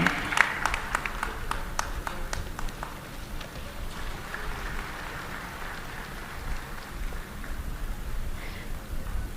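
Applause greeting the chief guest at a large BJP rally, a broad crowd clapping that peaks sharply at the start and then settles into a steady, rain-like patter throughout.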